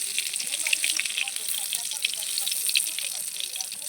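Cumin seeds fry in white oil in a kadai with bay leaf, a bright continuous sizzle and fine crackle close up, fairly loud, while a voice talks faintly underneath.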